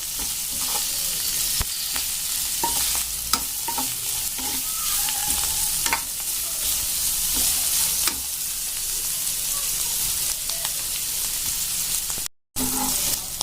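Bitter gourd (karela) slices fry in an open pan with a steady, loud sizzle, and a few spatula scrapes and clicks sound at intervals near the end.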